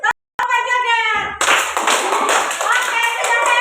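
Children in a classroom clap together in a quick, dense burst of many overlapping claps, following a chanted line and continuing under voices as the clapping game ends.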